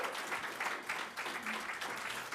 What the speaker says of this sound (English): One more round of applause for Marmoni League co-champions, Thousand Oaks High School girls volleyball.